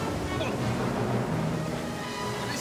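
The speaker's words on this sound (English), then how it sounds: "You can't really see where the waves are coming from." Open-sea waves surge and slosh around a swimmer in the water, with steady close wash and wind buffeting the microphone throughout.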